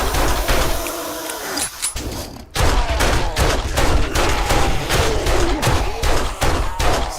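Rapid gunfire from a gun in the 7 Days to Die video game, a dense run of loud close shots that breaks off briefly, then resumes as steady repeated bursts.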